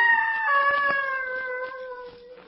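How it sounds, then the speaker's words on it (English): A high, wavering, eerie cry with tonal howling quality, slowly falling in pitch, with faint rustling and clicks around it. "It's the gibbering from those woods."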